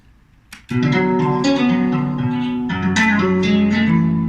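After a brief click, a sustained two-chord guitar sample rings out, one chord held then shifting to the second around the midpoint, full and loud.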